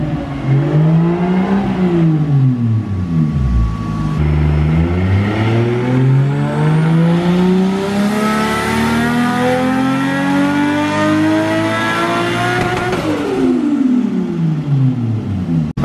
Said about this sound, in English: Derek has an external wastegate, and he has another muffler on and it's still so loud